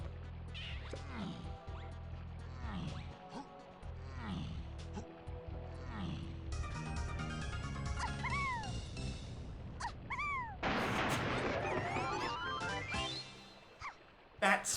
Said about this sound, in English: Oh, that's my cat.